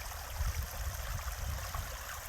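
A stream flows beside the Appalachian Trail between Stecoah Gap and Yellow Creek Road, making a steady, close rush and gurgle of water with no voices.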